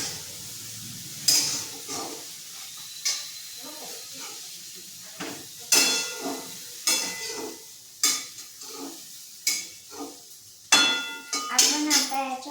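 Food frying in a pan is stirred in repeated scraping strokes over a soft background sizzle, roughly a dozen sharp scrapes at an uneven, unhurried rhythm, heard up close.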